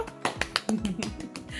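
Children in a kindergarten class clap a few separate, sharp, close-up claps in a loose irregular rhythm, quiet overall, with a faint voice briefly underneath.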